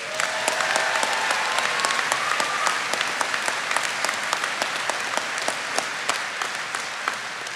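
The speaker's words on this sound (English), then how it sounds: "let's give Jasmine another round of applause." Loud audience applause at an apprentice school graduation ceremony, a dense, sustained roar of clapping from a large crowd with individual claps standing out in a steady rhythm.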